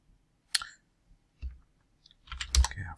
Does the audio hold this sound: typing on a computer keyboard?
yes